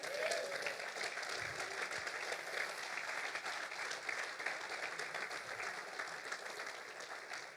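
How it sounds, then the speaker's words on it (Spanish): A crowd of men at a church camp service applauds, giving steady, dense clapping that carries on evenly at a moderate level throughout. "Denle un aplauso al Señor"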